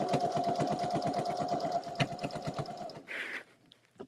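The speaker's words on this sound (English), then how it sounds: "I was just sewing for fun" A sewing machine stitching a quilt runs in a fast, steady rhythmic chatter for about three seconds, then stops, followed by a brief higher whirring and light handling noise.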